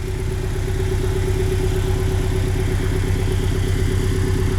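A 2017 Porsche 718 Boxster S with its turbocharged flat-four idling nearby, a loud, steady, throbbing burble with an even low pulse and no revving.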